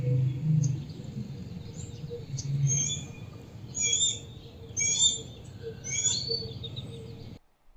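Bird calls played back from a recording, a series of short, high chirping notes in several bursts over a low background hum, moderately loud and then abruptly cut off.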